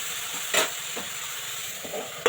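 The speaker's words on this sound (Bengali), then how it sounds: "এটা কিন্তু সুন্দর করে নাড়িয়ে নেব যাতে ধনে পাতার যে এক্সট্রা জলটা সেটা যেন শুকিয়ে যায়" Coriander leaves cooking in a pan, stirred while excess water dries off: a steady soft sizzle and hiss with a few brief scraping strokes, close and alone.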